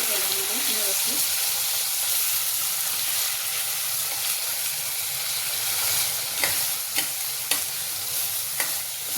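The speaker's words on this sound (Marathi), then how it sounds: "मसाला फ्राय करते." Masala spices frying in oil for a spicy chicken gravy, a continuous close sizzle and hiss with occasional stirring scrapes toward the end.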